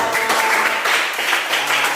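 Classroom of schoolchildren applauding after student presentations, a steady, fairly loud burst of many small hands clapping together, with no clear speech over it.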